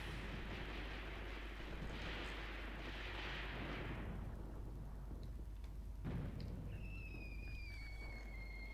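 Mortar fire in the Graviteam Tactics wargame: a low, heavy rumble of distant explosions rolls through the first few seconds, then one thud lands and a thin whistling tone follows, faint overall.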